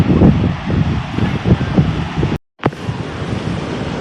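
Wind buffets the microphone over a wash of Baltic Sea surf on the beach at Krynica Morska, Poland, with a brief dropout partway through before the blustery roar resumes.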